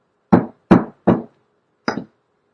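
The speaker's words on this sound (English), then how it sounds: "against here as I hammer" Four sharp hammer blows strike while a Valentine scoring tool is being made: three evenly spaced knocks, a pause, then a softer fourth, each a close, crisp percussive hit with quick decay in a quiet room.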